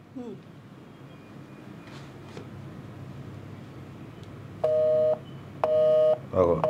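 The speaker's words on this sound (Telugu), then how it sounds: "ఫోన్ లేపుతలేడు, మళ్ళీ ఒకసారి ట్రై చేసి చూస్తా" Against a low rumbling background, a phone's ringback tone sounds in repeated half-second bursts, ringing on with no answer.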